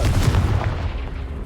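In the video game Hogwarts Legacy, a Confringo blast spell lands as one short, loud, booming explosion with a deep thud that quickly fades.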